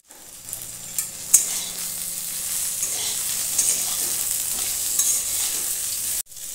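Long beans stir-frying in hot oil with turmeric, a loud continuous hiss and sizzle with occasional scrapes of stirring, close up and without speech, cutting off abruptly near the end.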